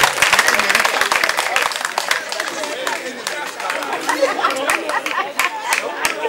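Audience applause at a tribute ceremony for former seminary formators in Benin, dense clapping with murmured chatter filling the room, steady and fairly loud throughout before easing slightly.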